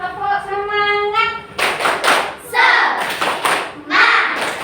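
Schoolchildren in an Indonesian classroom do a spirit clap chant, a voice giving the call before rhythmic group clapping and chanting voices follow in quick bursts, loud and near.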